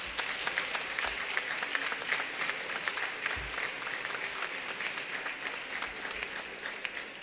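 A church congregation at a Creole-language Sunday service applauds in a steady, fairly quiet wash of clapping, with a few sharper individual claps and low thumps standing out.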